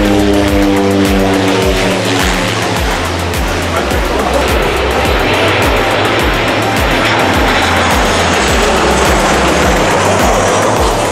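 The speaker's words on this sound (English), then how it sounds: "And the planes have started rolling in or flying in." A loud, roaring airliner engine passes close overhead as a plane comes in to land at Maho Beach, St. Maarten, its pitch sweeping down at first and then settling into a broad, rushing drone.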